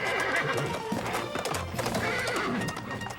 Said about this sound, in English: I will ride this horse